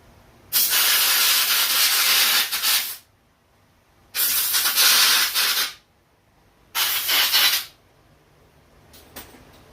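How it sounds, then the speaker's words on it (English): A can of QD quick dry electronics cleaner sprays in three long, loud aerosol bursts close by, each lasting one to two seconds with quiet gaps between, in an RC car garage. "Using some QD electronic cleaner. It's a quick dry electronics cleaner."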